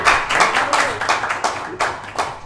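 A small talk-show audience claps in uneven, close bursts for guitarist Henry, a short patter of hands that fades out within a few seconds.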